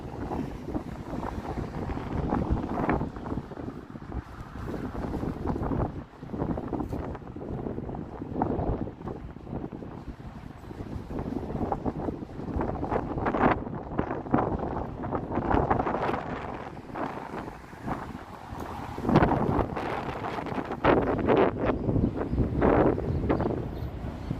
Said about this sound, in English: it's a bit breezy every now and again.